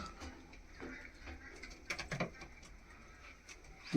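Allahabadi Chini Kaldumma pigeons kept at home, soft faint coos and light patter of movement with a brief flutter near the middle, fairly quiet and close.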